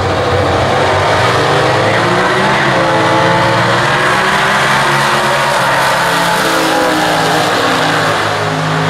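Stock-class drag race cars launch down the strip at the 2014 US Nationals, their engines roaring loud and steady for the whole stretch, with rising revs as they accelerate away.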